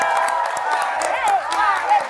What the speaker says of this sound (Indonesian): Tepuk tangan dulu dong buat MC-nya.